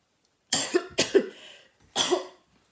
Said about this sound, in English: Hay fever cough.